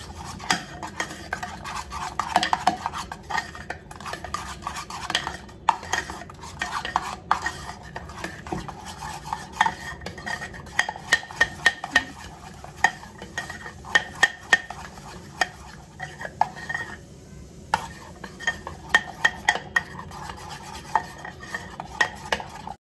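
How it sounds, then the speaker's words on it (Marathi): A spoon stirs and mixes paneer tikka marinade with crushed kasuri methi and salt in a bowl, giving continuous scraping and clinking against the dish for over twenty seconds, close and steady with no talking. "आणि छान एकत्र मिक्स करून घेते मी."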